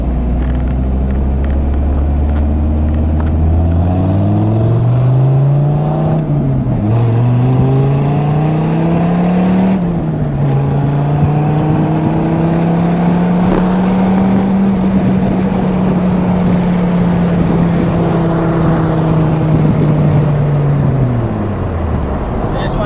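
A blue 2006 Dodge Viper SRT-10 coupe with a V10 engine is driven on an open road, its deep, loud exhaust note climbing and holding steady as it accelerates and cruises.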